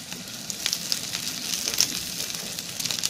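Chopped garlic frying in hot oil for a lau dal with shrimp, a close, steady sizzle and hiss with small crackles throughout, no voices.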